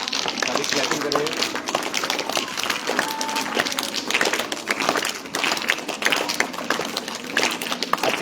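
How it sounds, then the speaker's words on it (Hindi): Children clap together for a classmate's birthday at a small school, dense scattered hand claps running steadily throughout, with voices mixed in underneath. "अच्छी तालियां बजाइए।"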